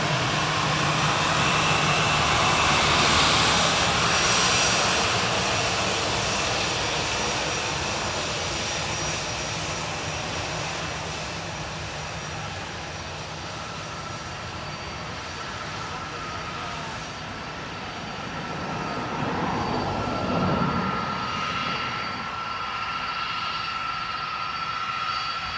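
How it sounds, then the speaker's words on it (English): A jet airliner takes off from runway 10 right at Dublin Airport, a loud broad roar that builds and sustains with a steady engine whine, then shifts as it climbs away, with faint talk beneath. "runway 10 right, you are clear, take off"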